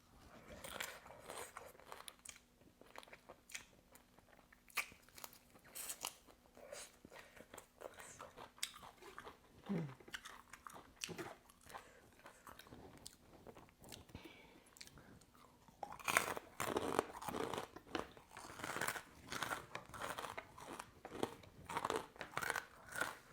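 Shrimp heads in a spicy Thai salad crunched and chewed up close, with a long run of crisp, irregular bites and mouth sounds that grow louder and denser toward the end.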